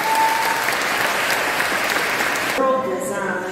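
Audience applause for the conductors at a children's choir competition, a dense burst of clapping from a crowd, close and loud, with a voice over a speaker system briefly cutting in near the end.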